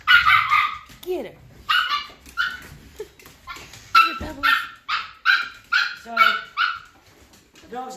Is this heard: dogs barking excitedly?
yes